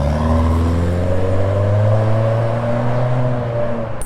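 A Subaru Forester Sport fitted with an HKS Legamax exhaust revs loudly and close, its deep exhaust note climbing and holding in smooth rising sweeps for a few seconds with no talking.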